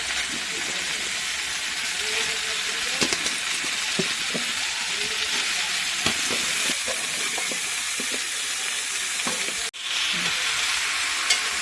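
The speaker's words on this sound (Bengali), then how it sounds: "কাঁঠাল আর আলুর মধ্যে মশলাটা যেন মিশে যায়, নেড়ে নেব হালকা।" Jackfruit and potato with spices frying and being gently stirred, a loud, dense, steady hiss with soft intermittent scrapes of the spatula, close throughout and briefly dipping near the end.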